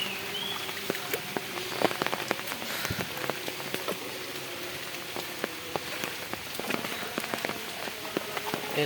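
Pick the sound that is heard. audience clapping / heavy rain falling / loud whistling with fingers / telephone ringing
heavy rain falling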